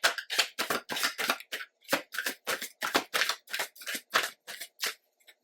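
Tarot cards shuffled by hand in a steady run of about twenty quick, crisp riffling bursts, close and fairly quiet, with no talking.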